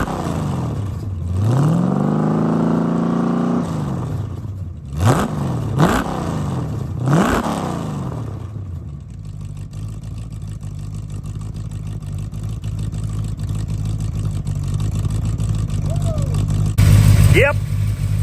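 A rebuilt 426 Hemi engine running through break-in, a steady low rumble holding close and loud for most of the span, with a rising revving pitch early on and a brief louder surge near the end.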